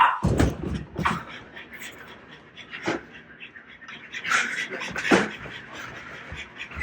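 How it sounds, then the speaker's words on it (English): Several dogs panting and whimpering close by in a home, short breathy bursts and soft whines spaced irregularly, loud then quieter, with no talking. "Dogs. Hi, dogs."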